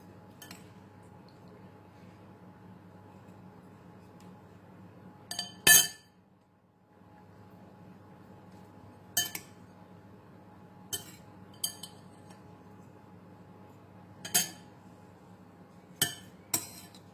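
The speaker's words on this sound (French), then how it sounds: "Alors je vais mélanger tous ces ingrédients et je vais farcer mes aubergines avec ça." Utensils clinking against a bowl while the stuffing mixture for stuffed aubergines with herbs and vegetables is stirred: sparse, sharp metallic clinks and knocks spaced several seconds apart over a quiet room background, with no talking.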